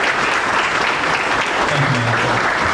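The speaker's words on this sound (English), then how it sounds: "Let's have a round of applause for all of our honorees." Loud, close banquet audience applause for small business honorees, an unbroken roar of clapping with a voice briefly rising through it.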